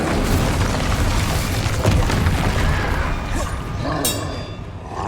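Incendio fire spell blasts in Hogwarts Legacy, loud and booming, with dense rumbling bursts filling the whole stretch and a sharper crackling hit near the end.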